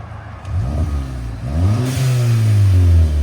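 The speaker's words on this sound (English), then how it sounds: "I like that blow-off valve. It sounds so good." A 2012 Audi TTS with a 2.0L turbo engine and custom exhaust accelerates hard, its engine note rising through shifts with loud, close revving. A brief whoosh from the blow-off valve is heard between gears.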